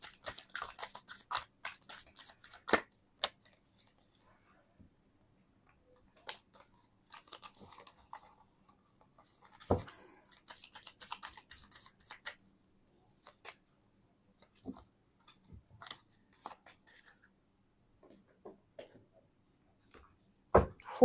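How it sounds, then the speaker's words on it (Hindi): Tarot cards are shuffled by hand in sporadic bursts of crisp riffling and soft flicking, close and quiet, with long near-silent gaps between the bursts. "तब तक मैं करती हूँ आपके कार्ड्स को शफल।"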